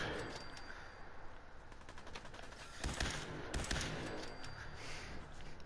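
Laser rifle fire in the video game Fallout, with rapid repeated energy-weapon shots in a dense burst over constant game noise.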